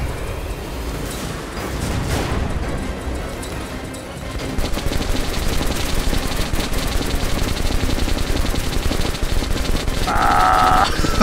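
Sustained automatic gunfire from the video game Metro Last Light Redux, dense rapid bursts that continue throughout with little pause, loud and close.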